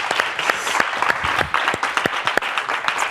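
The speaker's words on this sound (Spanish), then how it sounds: "Fuerte aplauso ahí, ¿no?" A small group in a football talk show studio claps, the individual claps distinct and sharp, close and loud, in an uneven but lively patter.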